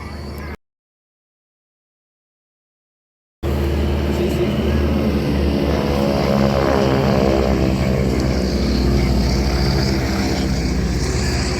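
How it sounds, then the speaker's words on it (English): Stearman biplane engines at the Bray Air Show in Wicklow, Ireland, droning loud and steady close by after a brief silence, a sustained propeller roar that holds strong to the end. "The beautiful sound of the Stearman engines."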